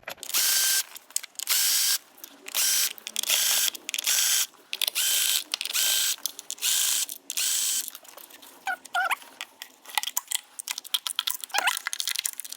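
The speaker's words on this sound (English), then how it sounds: "Now it's time to open the injector. You need the H4 socket." Repeated rapid ratcheting of a socket wrench loosening a diesel injector on a 2.0L VW Passat engine, in close bursts of clicking separated by short pauses, with sharper tool knocks toward the end and no talk.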